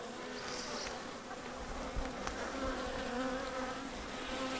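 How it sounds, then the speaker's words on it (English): Honeybees buzz around opened hive frames during a spring feeding check, a dense continuous drone close to the microphone with occasional individual bees passing by. "you can see these bees are moving around"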